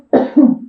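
A single harsh, throaty cough in two quick bursts, close and loud, then silence.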